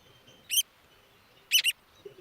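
An American oystercatcher, a large, noisy shorebird with a huge orange bill, gives sharp high piping calls: one short note, then a quick double note a second later, over quiet background.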